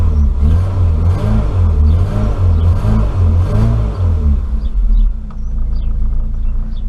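An Austin Maxi engine idles close by after sitting unused for months, warming up with the choke in. It gives a loud, steady rumble with a rhythmic pulsing throb that eases slightly toward the end.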